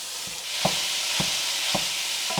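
Two pounds of 85/15 ground beef sizzle in a pan on the stove, a steady hiss broken by regular spoon or spatula scrapes and stirs, with no talking.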